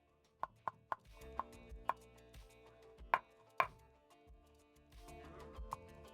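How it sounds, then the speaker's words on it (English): Fresh mint is chopped with a knife on a chopping board, producing a series of sharp, irregular taps, some harder than others, heard close but fairly quiet over a faint room background. "very quickly I'm going to chop up."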